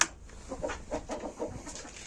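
Backyard chickens let out of their coop cluck in a steady stream of short, overlapping calls, fairly close and moderately loud, with no talking over them.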